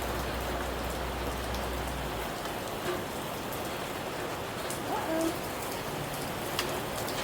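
Steady rain falls around a house garage, a dense, even hiss that holds throughout at moderate volume, with faint scattered drips and a bird cooing softly in the distance.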